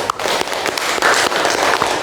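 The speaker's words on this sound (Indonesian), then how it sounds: "Boleh tepuk tangan buat kita semua?" A classroom of students claps together after their presentation, a dense, continuous burst of hand claps that stays loud and close.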